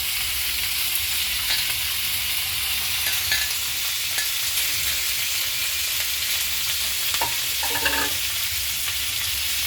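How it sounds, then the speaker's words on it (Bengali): Ginger, garlic and cashews fry in a pan with tomato, a steady loud sizzle with occasional stirring clicks and scrapes throughout. "এরপর এটাকে আমি ভালো করে ভেজে নেব"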